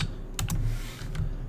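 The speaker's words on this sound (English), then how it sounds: "let me just see if I can type /quartz" A slash command being typed on a computer keyboard while playing World of Warcraft, a short burst of close, crisp key clicks with a couple of sharp taps and a later single keystroke over faint background hum.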